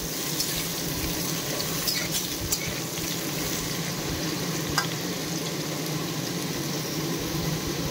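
Potatoes fry in a kadhai, giving a steady, even sizzle and crackle of hot oil that runs without a break throughout. A few faint clicks sit over the frying, and no one talks.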